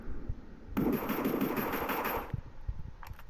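Automatic gunfire in the video game PUBG rattles in one rapid burst of about a second and a half, with fainter scattered shots after, fairly loud, no speech.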